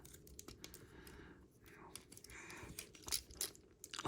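Plastic clicks and small snaps from an MP-21 Masterpiece Bumblebee transforming toy as its legs, wheels and panels are folded and pushed into place; a quiet, irregular series of light taps and clacks, with a few sharper clicks near the end.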